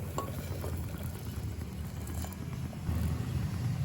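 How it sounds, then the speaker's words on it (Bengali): Hot water is poured into a pressure cooker of boiled chana dal, a soft continuous liquid gush over low kitchen rumble, with a slightly louder rush near the end. "এবার পাশের বার্নারে গরম জল আছে, আমি কিছুটা পরিমাণে গরম জল দেব।"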